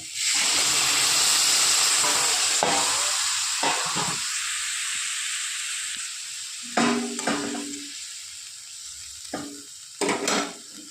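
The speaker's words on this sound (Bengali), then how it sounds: "ভালো করে ভেজে নেওয়ার পর এবার দিয়ে দেবো পরিমাণ মতো জল।" Water poured into a pan of frying potatoes, producing a loud burst of hissing steam that slowly fades, followed by several sharp clanks and scrapes of a utensil against the pan, with no talking.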